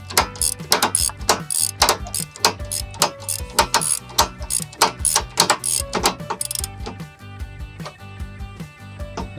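Ratchet strap on a Rail Ryder 2 car stacker being cranked tight, giving a steady run of sharp, close clicks in quick rhythm that thins out toward the end.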